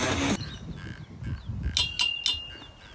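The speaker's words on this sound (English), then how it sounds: "The bell has been rung, and the match is underway." A bell rung to start a wrestling match in an indoor event, a few bright metallic clangs spaced apart after a brief burst of crowd noise, fairly loud and ringing out.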